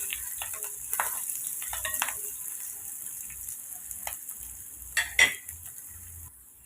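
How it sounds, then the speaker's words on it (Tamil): Onion, chilli and curry leaves sauté in a pan with a faint, low sizzle, broken by soft stirring scrapes and a couple of sharper knocks of the spoon against the pan. "வெங்காயம் சேர்த்துட்டு காரத்துக்கு மிளகாய், கருவேப்பிலை சேர்த்து ஜஸ்ட்டு ஒன்று நம்ம வதக்கி விட்டுக்கலாம்."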